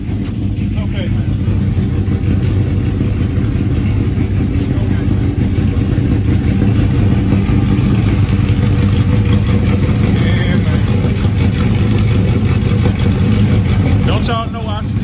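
A car engine idles steadily at close range, a continuous low rumble that runs through nearly the whole stretch, with a voice speaking over it.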